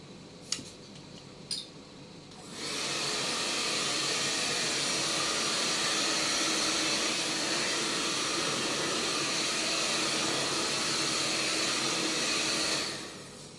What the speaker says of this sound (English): And then you use the hair dryer.